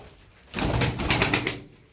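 A burst of soft, throaty tumbler pigeon coos and rustling rises after a quiet start, lasting about a second before fading back down.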